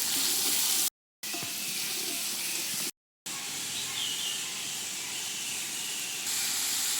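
Sliced onions sautéing in ghee for chicken biryani give off a steady, close hiss and sizzle, broken by two brief silent gaps, with no talking.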